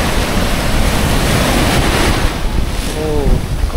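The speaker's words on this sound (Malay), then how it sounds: "ombak kat sini kuat" Strong ocean surf breaks on Diani Beach in Kenya, a loud continuous roar of crashing waves mixed with wind buffeting the microphone, with a voice briefly audible near the end.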